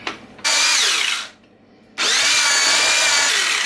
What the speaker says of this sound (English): a stick blender, but it also has a whisk attachment